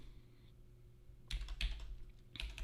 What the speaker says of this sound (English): Keep hitting the wrong dang keys.